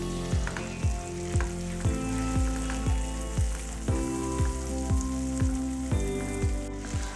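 Thinly sliced onions fry in butter and oil, giving a steady close sizzle with soft periodic stirring taps, and no voices.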